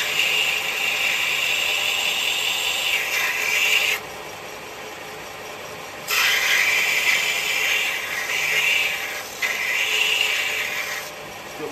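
A negative rake carbide woodturning cutter being sharpened, producing a loud, close, continuous high grinding rasp that drops to a quieter whir in two brief pauses before resuming.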